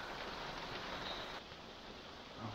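Steady rain falls outdoors on a winter hunting trail near Greenstone Hut on New Zealand's South Island, a soft, even hiss of drops with no distinct events. No one speaks.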